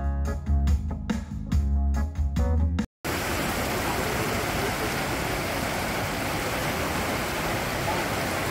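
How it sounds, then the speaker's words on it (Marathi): Music plays briefly, then cuts to a steady, loud roar of rushing water from Jogini Waterfall near Vashisht, Manali, continuing without pause. "हा जोगनी वॉटरफॉल आहे"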